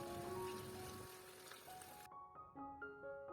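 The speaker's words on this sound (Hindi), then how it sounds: "इसको तेज़ आंच पर ही फ्राई करना है ताकि ये जो है अच्छे से फ्राई हो जाए" Chicken thigh pieces fry on a high flame in a curry, giving a dense rain-like sizzle that fills the first two seconds, then drops away and leaves thinner crackle under faint ringing tones.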